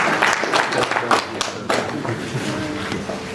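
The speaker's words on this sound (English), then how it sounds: "Can we clap for him?" An audience at the KNCCI Kakamega business awards gala dinner claps together, a moderately loud burst of mixed applause that stays level for a few seconds, with voices partly mixed in.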